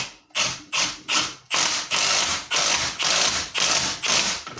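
A DeWalt drill spins a flexible-shaft right-angle attachment fitted with a Phillips bit, heard up close as loud repeated whirring bursts of roughly equal length with short gaps between them.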